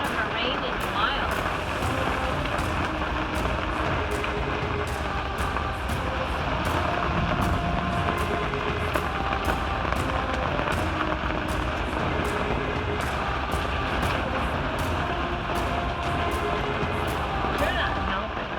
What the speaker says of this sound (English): We haven't had this loud of a rain in a while.